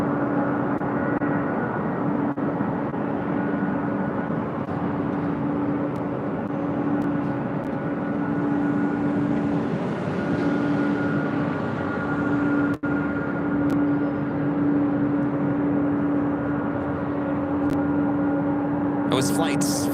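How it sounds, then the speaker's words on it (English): An Air Canada Boeing 737 MAX 8 lands at LAX, a steady, loud jet roar with droning engine tones holding throughout and a brief crackle near the end. "runway 24 left, clear to land. Set at Air Canada, 737 MAX 8."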